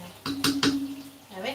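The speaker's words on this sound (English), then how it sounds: "Alright, we're gonna stir everything together. Just gonna stir, stir, stir, stir." Food in a pot is stirred with a utensil, giving several distinct clinks and scrapes against the metal, close by, while a voice talks over the stirring.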